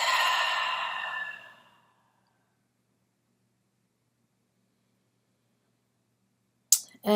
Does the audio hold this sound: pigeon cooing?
no